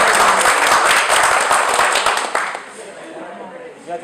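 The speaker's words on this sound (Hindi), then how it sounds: "आपकी भरपूर तालियों में।" Audience applause at a staff recognition event, loud and dense clapping that fades after a couple of seconds.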